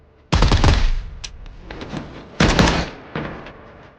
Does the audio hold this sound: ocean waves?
no